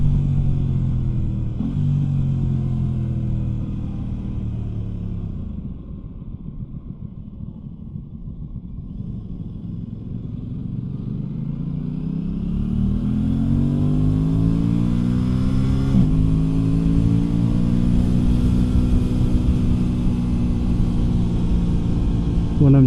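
Aprilia RS 660 sport motorcycle engine while riding through traffic, a steady rumbling drone that dips, then climbs in pitch as it accelerates, with a rider speaking over it.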